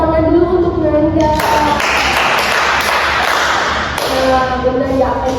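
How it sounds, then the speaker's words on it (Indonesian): In a group guidance session, the class claps for a student with a short stretch of close, brisk handclapping. Voices and talk surround the clapping before and after. "Kita tepuk tangan dulu untuk Nanda."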